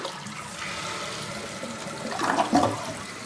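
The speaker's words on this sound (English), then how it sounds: "So pushing this one, this is the miniature flush." A dual flush toilet fitted with a Korky Platinum kit and Danco dual flush kit gives a short miniature flush, a steady rush of water swelling to a louder gurgle near the end, with no voices.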